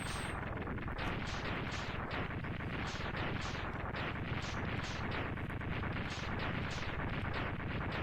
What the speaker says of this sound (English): explosions in this game are so fucking dramatic